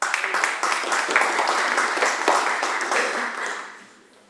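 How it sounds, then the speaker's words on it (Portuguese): Audience applause at a speaker event greets the next presenter, a dense burst of many hands clapping that holds steady and then fades out over the final second. "por isso peço-vos uma salva de palmas para ela."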